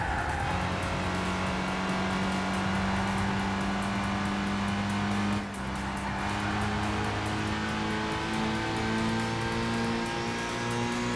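Race car engine at the Nurburgring held at loud, steady high revs from the cockpit, dipping briefly around the midpoint as a gear changes, then pulling on with a droning, continuous note.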